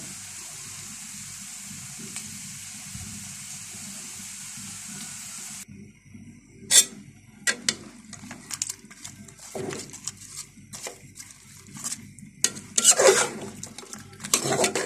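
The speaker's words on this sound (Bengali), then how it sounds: "মাংসটা আমি বসিয়ে দিয়েছি। এভাবে করে ভালো করে মাখিয়ে নিব।" Beef being mixed with spices in a pot for a Bangladeshi beef curry with papaya, heard as irregular scraping and clinking of a spoon against the pot. A steady background hiss runs beneath the stirring.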